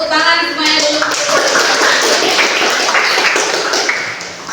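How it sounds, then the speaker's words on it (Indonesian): Students in a classroom clap their hands together in a loud, brisk burst that is steady across several seconds, with voices mixed in at the start. "Tepuk tangan semuanya dulu"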